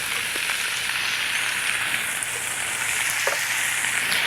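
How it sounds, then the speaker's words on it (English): Ground meat coated in Manwich sauce sizzles steadily in a skillet, a loud continuous frying hiss with no voices over it. "browning your meat in a skillet"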